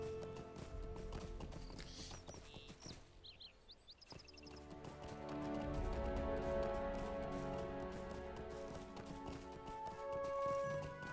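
Horse hooves clip-clopping in a video game set in a flooded city, a steady rhythmic gallop under a continuous ambient game soundscape with music-like tones, moderately faint, briefly thinning midway before picking up again.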